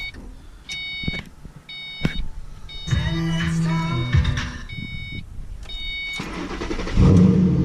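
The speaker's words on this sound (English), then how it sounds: "start it up, get a cold start" A Ford Mustang GT's key-fob beeps chirp a few times, then the engine cranks on a cold start in snow and fires into a loud, rough idle, ending with a deeper rumble.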